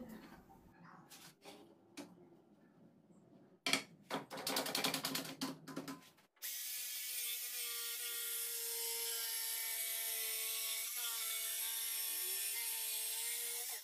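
A fretsaw cuts wood with a few scattered rasps, then a quick run of rhythmic sawing strokes, before steady music takes over for the rest.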